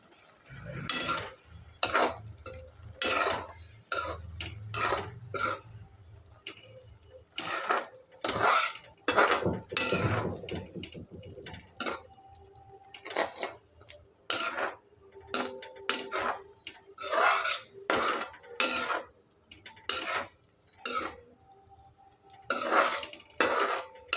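A spoon scrapes and clinks around a pan of palak paneer curry, a spinach curry being seasoned with salt and sugar, in bursts of irregular stirring strokes, close and fairly loud, with no talking.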